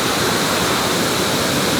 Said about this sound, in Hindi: हम पहुँच चुके हैं एक बहुत ही प्यारे झरने पे, जो बहुत ही अच्छा वाटरफॉल है